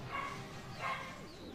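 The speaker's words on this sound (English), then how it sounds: "Hello, my dog." A dog gives two quick, high yips or barks close together, faint and somewhat muffled in a room, over a low background hum.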